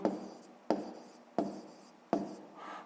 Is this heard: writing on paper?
yes